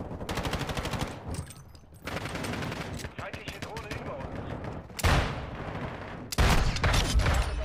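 Revolver gunfire in Modern Warfare 2, dense shots and bursts crackling throughout, with heavier booming blasts near the end and a voice talking over the action.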